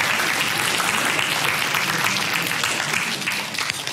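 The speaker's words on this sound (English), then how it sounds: "It took 4 lessons for you to clap me." A lecture-hall audience claps steadily, a dense, close wash of applause that tapers slightly at the end.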